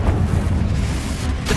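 A Confringo fire spell bursts in Hogwarts Legacy as a loud, dense, rumbling blast of explosive noise that holds steady without a sharp onset.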